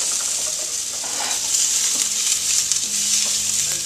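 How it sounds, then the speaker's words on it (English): Chopped apples and onions sauté in a hot pan, giving a steady, close sizzle with faint stirring scrapes and no talking. "Sauteing away."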